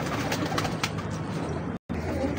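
Golden pigeons of the Mia Sahib line cooing close by in a loft, a steady low murmur with soft repeated coos and a brief gap near the end.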